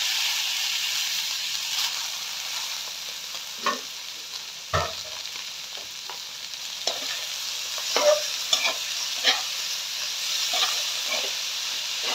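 Dinuguan sizzling and frying in a pan, with a steady steamy hiss and several scattered scrapes and clacks as a utensil stirs it, close up and with no talking.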